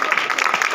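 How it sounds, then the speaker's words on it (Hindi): Crowd applause at a Suheldev Bharatiya Samaj Party meeting in Tajopur, a brief, steady burst of many hands clapping at once. "जोरदार ताली बजा के स्वागत करते"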